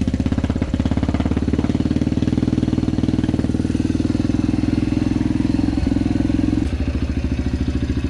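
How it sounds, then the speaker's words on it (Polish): A Yamaha TTR 125L dirt bike fitted with an FMF PowerCore 4 exhaust idles close by with a rapid, steady, bassy thump, holding an even rhythm with a slight dip near the end. "jak się przygazuje, to ten właśnie wydech FMF PowerCore 4 właśnie daje ten taki fajny basowy dźwięk"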